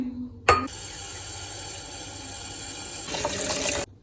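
Tap water runs into a container of almonds for homemade almond milk, a sudden start followed by a steady, close pouring rush that brightens slightly near the end before the faucet cuts off abruptly.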